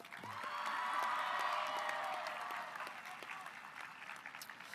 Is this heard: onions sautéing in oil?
no